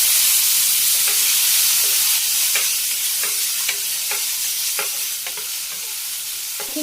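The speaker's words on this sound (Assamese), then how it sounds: "এইখিনি এতিয়া অলপ সময় ভাজি লৰাই" Boiled raw mango pieces fry with nigella seeds in a pan under a constant hiss, with a spatula scraping the pan in regular strokes roughly every second.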